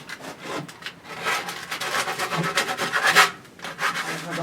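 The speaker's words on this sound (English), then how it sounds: "Sand it all out, get some sandpaper and sand the inner sides of these and the whole of the beast before putting it together." Wood pieces being sanded with a sander for a handmade egg tray and bookshelf give a loud, steady rasping rub with rhythmic back-and-forth swells throughout, close and alone.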